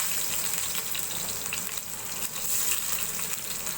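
Chopped onion hitting hot soybean oil in a pan, a steady dense sizzle and crackle filling the whole stretch at close range, with no voices over it.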